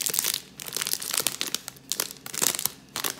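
A plastic bag crinkles and rustles as it is gathered around handmade soap, with irregular crackly bursts close by and no speech.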